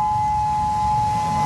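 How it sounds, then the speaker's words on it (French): Tsunami warning sirens wail across Hawaii, a loud, steady, unbroken tone that holds level throughout with a low rumble beneath. "Ici, les sirènes à Hawaï"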